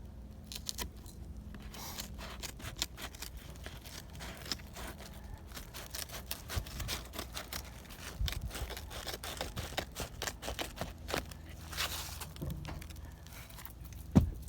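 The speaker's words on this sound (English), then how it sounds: "So I just use shears to cut it." Shears cut through an asphalt roofing shingle at a closed-cut roof valley, making a steady run of crisp snips and scrapes, close and moderately quiet, with no voices.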